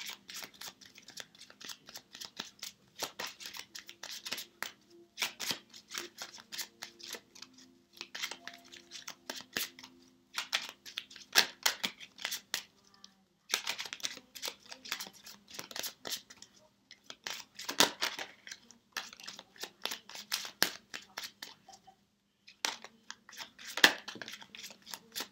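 Cards are handled and shuffled at close range during a tarot-style reading, giving soft, irregular riffles, snaps and rustles that come in quiet bursts over about twenty-five seconds.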